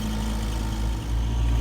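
A tractor engine idling nearby outdoors, a steady low rumbling drone with a constant throb throughout.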